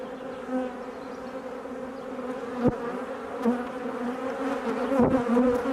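Honey bees buzz steadily during a hive inspection, a continuous close drone with a few louder passes as individual bees fly near, and no voices.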